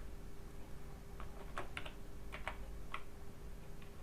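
Keys tapped on a computer keyboard while typing text in capital letters, a scattered run of light, near clicks in small bursts over a steady low room hum.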